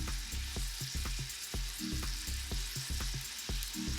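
Onion fries in hot oil in a pot, a bright, continuous sizzle with rhythmic stirring knocks roughly every half second, close and fairly quiet, with no speech.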